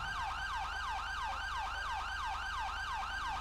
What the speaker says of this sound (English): Your secondary siren.